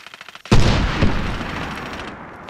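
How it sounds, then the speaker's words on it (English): A guided missile launches in the Medal of Honor Warfighter video game with a sudden loud blast followed by a long roaring rush that slowly fades over a couple of seconds. "Missile off the rail."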